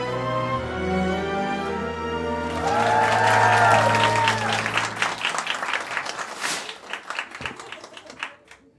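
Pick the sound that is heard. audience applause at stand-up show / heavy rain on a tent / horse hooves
audience applause at stand-up show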